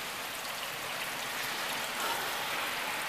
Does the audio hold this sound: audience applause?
no